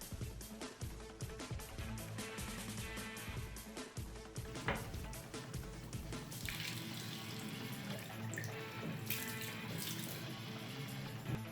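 Tap water runs into a sink as a resin sculpture piece is washed with soap, a soft steady stream with splashes and light knocks of handling, close and fairly quiet, with no speech.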